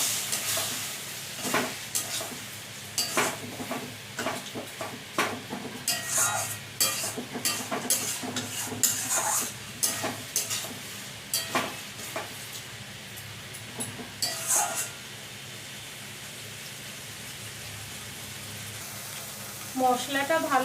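Spice masala is sautéed in oil in a pan for a Bengali fish-roe fritter dish, with repeated scraping spoon strokes over a steady sizzle, close and fairly loud, then a quieter stretch near the end.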